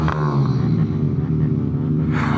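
A Honda Grom motorcycle rumbles loudly and steadily while racing, with the engine note holding up close and continuous over a couple of seconds.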